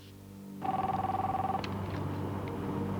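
A telephone rings with a steady electronic trill for about a second while a call is placed, followed by lower background noise.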